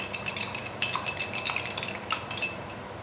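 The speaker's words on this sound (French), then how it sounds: "une demi-cuillère de farine que je vais tout bien mélanger" Spoon stirring a small mix of water and flour in a bowl, quick clinking taps and scraping in an irregular rhythm, close and clear.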